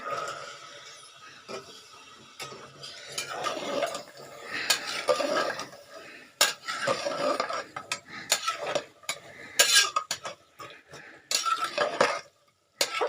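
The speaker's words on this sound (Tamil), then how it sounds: "நம்ம இப்போ உருளைக்கிழங்க போட்டுக்கலாம் பட்டாணியும் சேர்த்துக்கலாங்க" Potatoes and peas tipped into a pan of oily gravy for aloo matar, with repeated close clinks and scrapes of a metal spoon stirring against the pan, irregular bursts of clatter over a faint sizzle.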